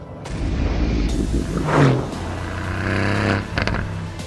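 Aston Martin engine with AMG-built power, loud revving with rising pitch sweeps, sharp bangs and bursts of acceleration, close and alone without speech.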